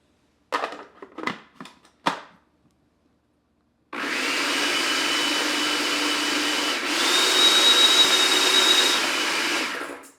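A food processor beats cream into butter: a loud, steady motor whir runs continuously for about six seconds, its tone shifting partway through, after a few brief clattering knocks at the start.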